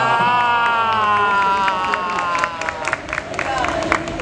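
A festival crowd at an anime dubbing panel claps and cheers loudly, with shouts and whoops rising over the applause and a voice heard amid the noise, the roar easing slightly toward the end.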